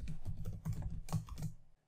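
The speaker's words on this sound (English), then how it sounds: "And here I can type no results." Keys clatter in a quick, steady run of typing on a computer keyboard during spreadsheet work, close and clear, ending in a brief pause with no voices.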